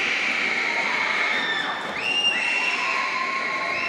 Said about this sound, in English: It's a wild cheers from the crowd